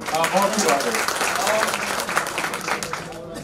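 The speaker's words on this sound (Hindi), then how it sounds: "तालियां बजाइए भाई" Audience clapping at an annual election gathering, a dense sustained round of applause with voices mixed in.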